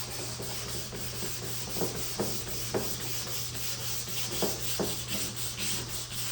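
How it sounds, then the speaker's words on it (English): Sandpaper rubbed back and forth over a fogged car headlight lens, giving a steady, close rasping scrape with soft rhythmic strokes and no voices. "while you're doing this, the sandpaper is gonna get gunked up"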